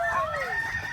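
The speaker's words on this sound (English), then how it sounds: "there's chickens everywhere" Chickens on a farm trail call out close by, a clear warbling cluck with a rising, drawn-out tone, steady and alone without talk.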